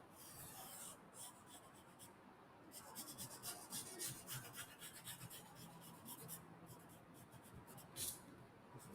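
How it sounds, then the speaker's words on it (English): Pencil drawing a curved banana shape on paper, a faint, close scratching and rubbing of the tip across the sheet in short repeated strokes. "So just drawing that curved shape."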